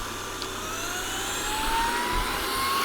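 A lightweight vacuum cleaner runs on eco mode over carpet, sucking up gravel pieces and dirt. A steady, close, droning whine holds throughout, with the pitch drifting slightly upward and occasional low rumbles from debris.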